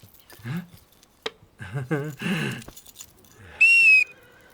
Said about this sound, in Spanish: El silbato de un contramaestre.